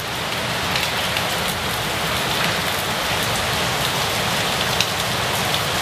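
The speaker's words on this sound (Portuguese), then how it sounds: "Olha a chuvinha." Steady light rain falling continuously on outdoor surfaces, an even, close hiss with no voices and no pauses.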